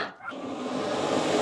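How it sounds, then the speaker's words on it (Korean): A hair dryer runs steadily at a dog daycare, a continuous airy whir that starts up after a brief dip and holds at a moderate level without talk. "이 기계는 뭐예요? 드라이기야."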